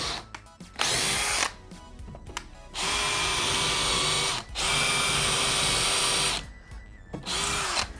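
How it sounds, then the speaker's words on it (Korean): A Stanley SBH201M2K 18V hammer drill in drilling mode at speed setting two, boring a hole in three loud sustained whirring bursts with short stop-start pauses, the motor whine steady and close. "드릴링 모드를 한번 사용해 볼게요"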